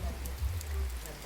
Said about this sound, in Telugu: చూడండి ఫ్రెండ్స్, ఇది వాన పడుతుంది.